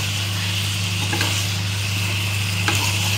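Brinjal frying in a pan with mustard, garlic and ground whole red chilli masala, a loud, even sizzle up close with a couple of brief spatula scrapes and no talking.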